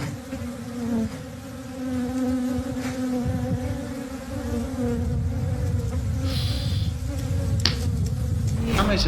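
Bees buzz steadily and close throughout, a dense continuous drone that stays loud and even with no talking.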